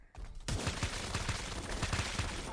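Secondary weapon fire from the Dreadwolf mech in the mobile brawler Super Mecha Champions: a dense, loud burst of rapid repeated blasts, like a cluster bomb scattering, runs continuously after a brief quieter lead-in.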